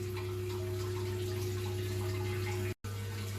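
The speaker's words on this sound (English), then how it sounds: "I'm going to wash out this breather pipe as well, coming off the block." A parts washer runs a steady stream of solvent over a blocked breather pipe off the block of a 1957 Ferguson 35 TVO tractor, a continuous pump hum and splash that cuts out briefly near the end, then resumes.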